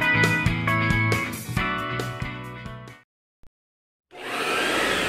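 A vacuum cleaner motor roars steadily for about a second at the end of a radio advert for a vacuum center, rising abruptly after a brief silence that follows musical jingle sounds.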